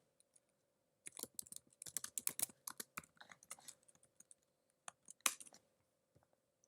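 Computer keyboard typing in quick irregular bursts of crisp clicks, close and fairly quiet, with short pauses between runs and a soft steady hum beneath.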